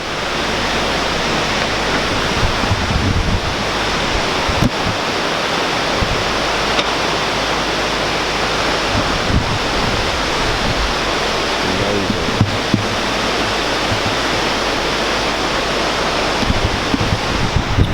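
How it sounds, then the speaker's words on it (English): A waterfall in Mai Chau, Vietnam roars in a loud, unbroken rushing wash of white water, steady and close for the whole stretch with no voices over it. "First stop, lovely waterfall."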